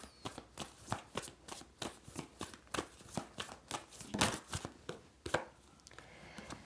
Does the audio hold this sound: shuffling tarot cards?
yes